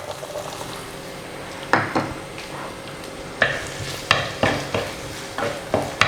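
Shallots are sautéed in a pan for a duck curry, giving a steady low sizzle. Roughly seven sharp scraping stirs of a spoon against the pan cut through it, most of them in the second half, and no one speaks.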